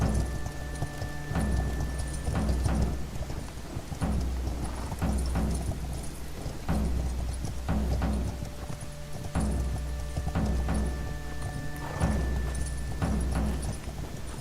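Horse hooves clip-clop in the video game Ertugrul of Ulukayin, with rhythmic bursts of galloping beats separated by short pauses over a constant low rumble, loud and close.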